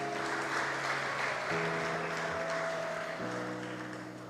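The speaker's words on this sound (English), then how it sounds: "Please give Tamika a round of applause." Sustained applause at a school speech day and prize-giving ceremony for a student, even and continuous, with a steady tonal hum running beneath the clapping.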